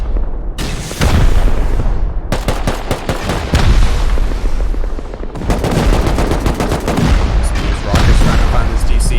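Heavy Rust combat during a 6v6 base-raid tournament: loud, dense bursts of automatic gunfire and booming rocket impacts, nearly continuous with brief gaps.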